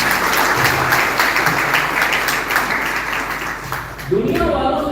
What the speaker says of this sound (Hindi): एक बार हो जाए तालियां हो।